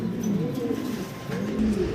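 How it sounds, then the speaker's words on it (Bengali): Sirazi pigeons coo softly up close, two low rolling coos with a short gap between them over faint background noise. "সিরাজি কবুতর, ডানে হচ্ছে মাদি, বামে হচ্ছে নর।"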